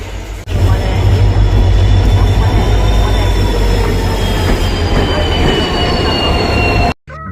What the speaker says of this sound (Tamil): கைஸ் நாம் போகிற ட்ரெயின் வந்துருச்சு.